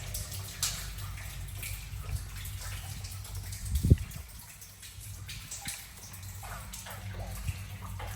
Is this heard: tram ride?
no